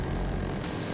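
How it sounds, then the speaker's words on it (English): Aircraft engine drone from a helicopter in the shooter game Battlefield 2042, a loud continuous rotor and engine roar that fills the whole second with no talk. "I just hit a helicopter"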